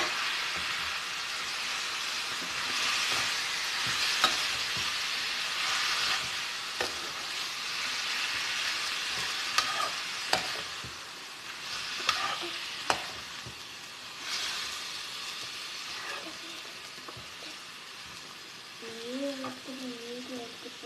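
Half a kilo of chicken for a mayonnaise chicken recipe stirs and sizzles in a pan, a steady frying hiss with scraping stir clicks throughout, and brief faint voice-like tones near the end.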